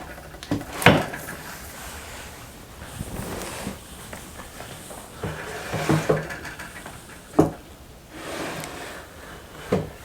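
Kitchen drawers are pulled open and pushed shut during a search for measuring cups, sharp wooden knocks and rattles spaced irregularly with quieter rummaging between them and no talking.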